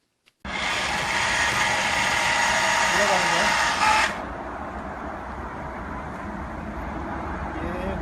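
An MJ81 railway point switch machine runs its motor with a loud, steady mechanical whir and grinding drive. The sound starts abruptly, holds for about four seconds and then cuts off, leaving a low background hum and a voice speaking.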